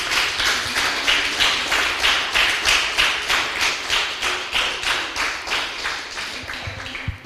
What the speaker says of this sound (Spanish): Denle un fuerte aplauso al Rey de gratitud